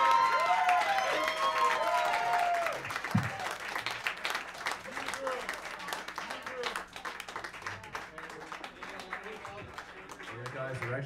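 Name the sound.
audience applause at live show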